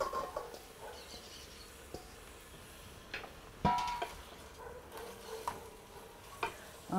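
Duck sautéing in a pan with onion gives a faint, steady sizzle broken by scattered clicks and scrapes of stirring, quiet and close with no talk.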